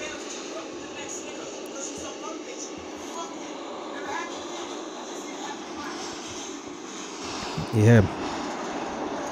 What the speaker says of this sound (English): So all you're hearing is train right now.